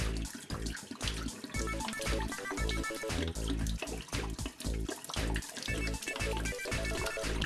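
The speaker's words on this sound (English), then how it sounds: "tip the bottle and let the water glurp glurp glurp out" Water glugs out of a tipped bottle in rapid, rhythmic gurgling pulses, close and fairly loud, steady throughout with no talk.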